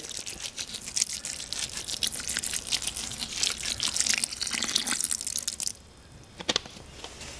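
Liquid mix is poured into carp fishing pack bait, splashing and pouring steadily for several seconds, a bright wet gushing that stops abruptly near the end, followed by a couple of faint clicks.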